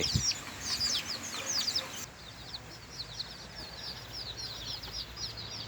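Several chickens cluck and chatter continuously in the background, a busy flock of soft, overlapping calls at moderate distance.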